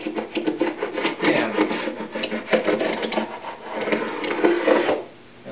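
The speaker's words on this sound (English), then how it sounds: "First thing I'll do is use my carbide scraper to get rid of any glue bumps" Carbide hand scraper rasping glue bumps off maple veneer plywood, a steady close scratchy scraping in rapid repeated strokes that continues almost without pause before stopping abruptly near the end; a brief spoken word is heard.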